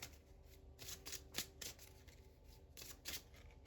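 Oracle cards are shuffled by hand close to the microphone, giving quick, crisp riffling bursts that come in a few separate flurries, quiet and alone.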